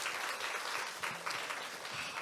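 A crowd at a school arts event claps warmly for a guitarist and a pansori singer after their performance, a brief, dense burst of applause.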